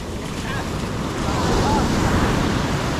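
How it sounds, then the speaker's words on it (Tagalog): Ocean waves rush and break nearby, swelling into a louder surge midway, with wind buffeting the microphone throughout. "Yan na ang alon!"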